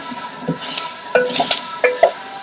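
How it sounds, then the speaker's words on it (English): Onions and garlic stirred in a pot with a metal spoon for tomato bisque, scattered scraping clinks and knocks against the pot over a soft sizzle, close and irregular. "Just keep stirring."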